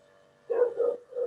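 A dog gives a short run of two or three quick barks in the background of a home video call, fairly close and moderately loud over a quiet room.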